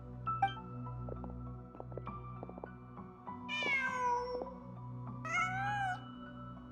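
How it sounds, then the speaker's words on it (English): A cat meows twice in the Genshin Impact video game, each call a clear, drawn-out mewl rising over a steady bed of soft game music, the second meow slightly shorter than the first. "Just a cat."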